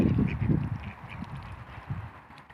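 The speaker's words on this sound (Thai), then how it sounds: "นกเป็ดค่ะ" Wild ducks, a flock of flying forest ducks abroad, quacking in short bursts close by, with low honking calls and faint background noise.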